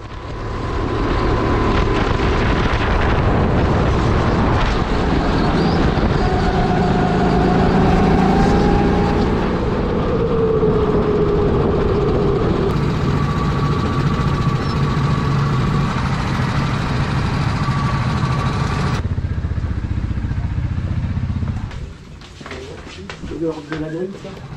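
Racing karts at the start of a final at the MKR Cholet kart track, a loud continuous engine drone rising and falling for over twenty seconds before dropping away abruptly.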